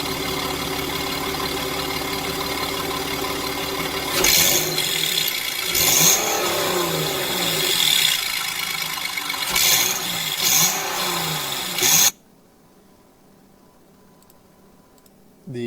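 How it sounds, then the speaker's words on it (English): A BMW X5 exhaust as the throttle is snapped, several sharp revving bursts rising and falling over a rough idle, close and loud, before cutting off abruptly into near silence. "I have a video here of me snapping the throttle after the pop was heard"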